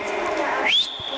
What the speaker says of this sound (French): le sifflement pour obtenir l'attention, pour ramener l'attention des élèves